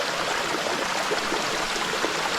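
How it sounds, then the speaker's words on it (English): A waterfall near a hiking route to Adam's Peak gives a steady, dense rush of falling water, close and unbroken throughout. "I'm just enjoying the beautiful waterfall right next to us"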